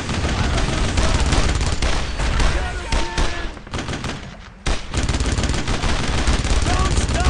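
Dense, sustained gunfire from the World War II shooter Brothers in Arms: overlapping rifle and machine-gun bursts roll on almost without pause, briefly thinning near the middle before surging again, with voices shouting underneath.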